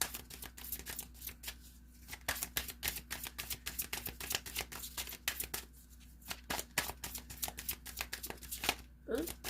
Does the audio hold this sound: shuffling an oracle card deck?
yes